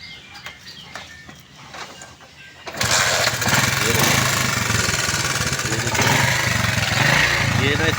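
A 70cc motorbike engine with freshly replaced piston rings starts after a quiet moment and settles into a loud, steady running clatter that fills the rest of the clip, with a voice speaking over it.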